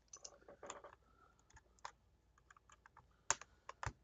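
Mechanical keyboard switches, stock lubed, clack in quick irregular presses, with sharp close clicks and short pauses between keystrokes in a quiet room.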